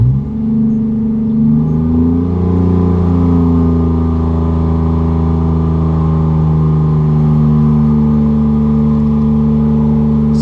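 A combustion engine running at idle as it settles to a steady speed, with a steady, loud low-pitched hum and a slight rise in pitch early on before it evens out, with no talking.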